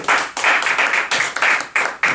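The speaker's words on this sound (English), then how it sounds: "Let's give a round of applause for Karina" A small meeting audience at a Toastmasters table topics session claps for Karina, individual hand claps clearly separated in a quick rhythm.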